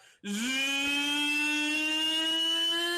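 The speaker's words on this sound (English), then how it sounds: "you guys hear a small sound of Engines. Not exactly a small sound, more like a loud." Loud engine sound effect in a tabletop-style apocalypse roleplay: a steady, powerful whine that starts abruptly after a brief silence and holds at full volume as a sustained tonal roar.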